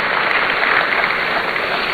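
Audience applause at the launch event of a student entrepreneurship programme, a loud, even roar of clapping that carries on without a break for the whole span.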